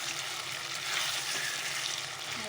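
Potatoes and chicken sauté in a pan, giving a continuous moderate sizzle with a faint rise in the middle and no speech.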